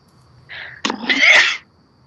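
One loud, close human sneeze, a brief wind-up breath followed by a sharp explosive burst that quickly fades to quiet.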